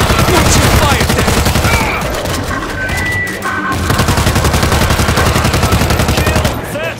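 Rapid automatic gunfire rattles nonstop in the zombie shooter World War Z, loud and dense with overlapping bursts, briefly thinning in the middle before the sustained firing resumes.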